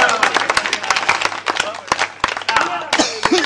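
Audience clapping at a Hindi comedy poetry recital, sharp hand claps scattered through and mixed with a speaking voice.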